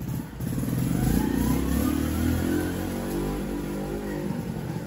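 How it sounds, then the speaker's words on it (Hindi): A motorcycle engine runs steadily close by outside a home, its buzzing tone rising and falling slightly as the bike arrives, loud and continuous with no talking. "इसको आवाज आई है बाइक की"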